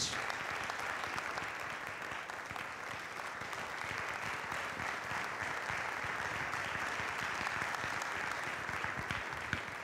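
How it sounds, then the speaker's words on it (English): A conference audience claps steadily in welcome as a keynote speaker is introduced, a sustained, fairly distant wash of hand claps with no talking over it. "with a round of applause, let's make welcome Yemi Ademolakun as she makes the keynote speech"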